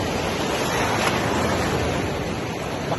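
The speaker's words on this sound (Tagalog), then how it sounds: "Ayan naman alon" Steady, loud wash of ocean surf rolling onto a fine-sand beach, a continuous broadband roar with no pauses and no voices over it.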